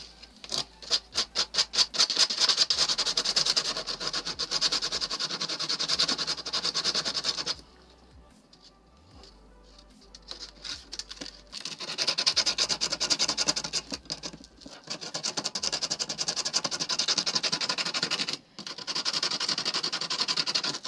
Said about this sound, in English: See if sandpaper helps.